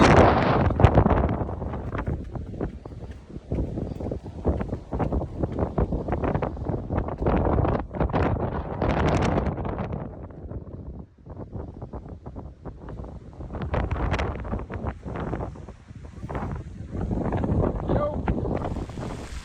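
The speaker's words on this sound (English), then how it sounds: "It's a bit windy." Heavy wind buffets the microphone in loud, gusty rumbles throughout at Esperance, Western Australia, easing briefly midway before picking up again.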